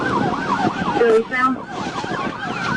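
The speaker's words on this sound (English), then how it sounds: "the wail of sirens in his wake" Emergency vehicle sirens wail during a high-speed police chase, rapid rising-and-falling yelp cycles sounding loud and close, briefly interrupted by other tones before resuming, with a brief spoken voice over them.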